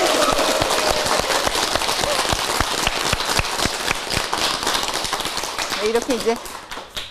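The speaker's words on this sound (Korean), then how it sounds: "박수 소리와 함께" Audience applause at a Buddhist dharma talk with a monk, scattered sharp claps fading over several seconds while a voice speaks over the clapping.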